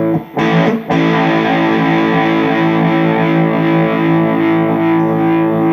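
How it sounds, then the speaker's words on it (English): Electric guitar through a crunchy amp breaking up at a quiet setting via a Universal Audio OX power attenuator: a couple of quick strums, then a thick distorted chord rings out and sustains without any talking. "Quiet setting, but you can still hear the amp breaking up"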